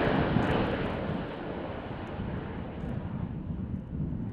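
Steady drone of a fixed-wing aircraft engine during a paratrooper artillery airdrop, with wind rushing past, loud and close inside the plane and easing slightly in the second half.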